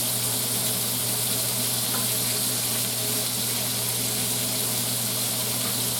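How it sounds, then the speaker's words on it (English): Sausage meat browning in a frying pan for penne arrabiata, a constant soft sizzle and crackle of frying fat with a steady low hum underneath, no talking. "if you just lay it down and don't move it, don't mess with it, when you toss it, you'll be able to toss it and all your meat will be evenly coated"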